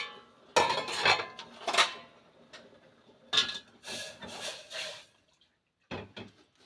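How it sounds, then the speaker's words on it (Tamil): Tea poured out with cups and dishes clinking, a series of close, bright clattering knocks and rattles in irregular bursts separated by brief quiet gaps. "டீயை ஊற்றி தந்துடுறேன்."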